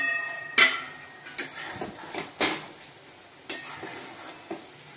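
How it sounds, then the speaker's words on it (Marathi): Vermicelli (shevaya) cooking in a pan over low gas is flipped with a spatula: a few sharp scrapes and clatters at irregular intervals over a soft, steady sizzle, close by and with no voices. "आता आपण थोड्या शेवया पलटी करू"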